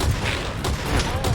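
Burst of gunfire in Metal Gear Solid V: The Phantom Pain, a rapid volley of loud shots with booming low thumps, steady and dense across the moment.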